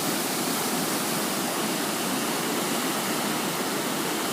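Storm floodwater roars steadily at the end of a driveway during Easter flooding in southwest Douglas County, Missouri, a loud, continuous rushing wash like a waterfall with no break.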